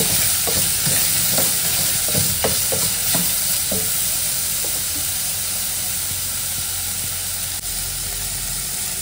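Salt, turmeric and asafoetida being stirred together in a pot, giving a steady close scraping and clinking under a constant hiss, with sharper strokes early that thin out later.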